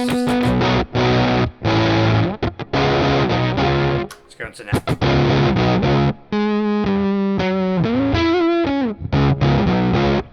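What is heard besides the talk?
humbucker electric guitar through germanium overdrive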